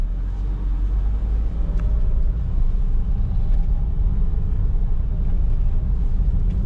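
Steady low engine rumble and road noise inside a 2014 Perodua Alza 1.5 ZV Advanced facelift automatic on a test drive, even and continuous with no talk.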